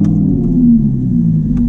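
An Audi R8 5.2 V10 with a Cobra Sport valved exhaust starts up and settles into a loud, deep, steady idle rumble heard close and alone.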